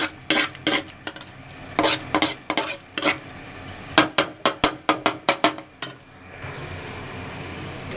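Tikka karahi gravy sizzling in a pan while a utensil scrapes and stirs it, a run of sharp rhythmic strokes close up that stop near the end, leaving a faint simmer.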